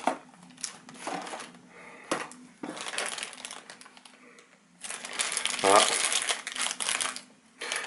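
A crinkly packet is torn open and handled up close, giving bursts of loud crackling and crumpling, interspersed with talking.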